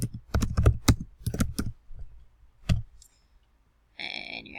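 Fingers typing on a computer keyboard, a quick burst of clacking keystrokes followed by a few isolated taps, near and fairly crisp, ending in a brief electronic noise.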